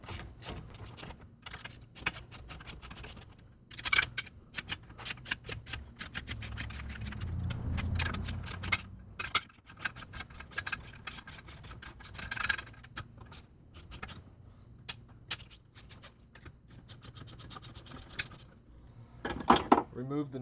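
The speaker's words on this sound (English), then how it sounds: "Remove the nuts and washers." Nuts and washers come off a Mercruiser Alpha One gen-2 stern drive, giving scattered metallic clinks, jingles and scrapes up close, with a few louder clanks and a voice talking partway through.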